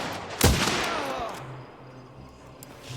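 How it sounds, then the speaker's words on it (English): A single sharp gunshot cracks out loud and close in the railway combat game The Zaamurets: Last Train Home, its echo trailing off into quiet within about a second. "Roman's been shot in the back."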